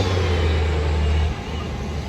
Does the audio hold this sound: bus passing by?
yes